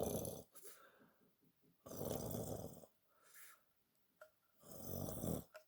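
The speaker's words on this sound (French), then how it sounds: "C'était le chien qui ronflait." A dog snoring in its basket indoors, three loud rasping snores in slow rhythm separated by quiet gaps, with faint snorting breaths in between, close and otherwise silent.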